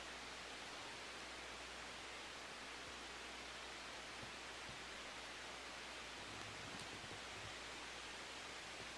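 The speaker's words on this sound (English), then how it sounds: "The wind is still too loud. It's just like the white noise is really loud." A wind soundtrack plays loudly during an online sound bath session. It makes a dense, unbroken hiss like white noise that stays even and steady throughout, with no voices over it.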